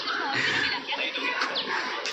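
Pigeons coo among a loft of caught pigeons being flown, soft calls blended into a steady, noisy outdoor background with a few faint chirps.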